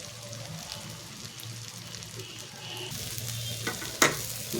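Raw rice frying in a pan for basanti pulao gives a steady close sizzle with stirring scrapes, ending in a sharper clatter.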